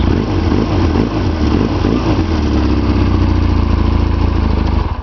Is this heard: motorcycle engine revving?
yes